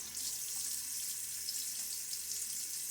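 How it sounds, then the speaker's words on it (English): Water runs from a bathroom tap and splashes as it is scooped onto a face during a wet shave, a steady hissing rush with faint splashes, no voices. "A little splash of water now."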